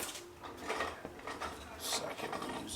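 A 1 1/4-inch socket wrench ratchets on a suspension bolt during DIY suspension work, producing a quiet mechanical clicking and whirring over a few seconds, close and fairly faint.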